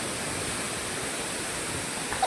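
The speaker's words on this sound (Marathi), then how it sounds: "हे बघा किती उंचावरून धबधबा पडतो बघा" A tall waterfall drops from a great height, producing a steady, dense roar of rushing water that fills the scene evenly and without pause.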